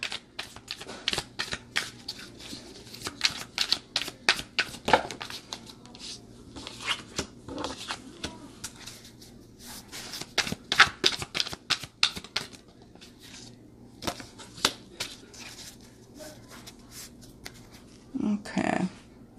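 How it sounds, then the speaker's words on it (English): Tarot and oracle cards are shuffled by hand in repeated bursts of quick riffling and flicking, close and crisp, with brief pauses and a soft voice now and then. "I'm having a hard time shuffling tonight"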